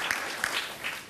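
Studio audience claps briefly to welcome a female guest onto a Spanish-language talk show, a short burst of close, scattered hand claps lasting about a second.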